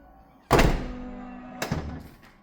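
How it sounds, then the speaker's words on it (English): A tailgate on a Mercedes S211 shuts with a new latch, giving a single solid thunk with a short ringing tail and then a second, softer clunk about a second later, close and with nobody talking. "we test the closure and opening of this door"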